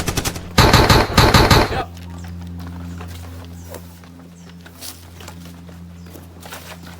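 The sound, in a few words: gunfire in a battle reenactment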